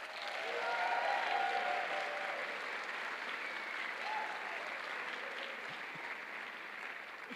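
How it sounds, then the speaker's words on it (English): Audience members at an honors convocation give a round of applause, a sustained, fairly quiet spread of clapping that swells early and then holds steady, with a voice faintly heard underneath. "Please give them a round of applause."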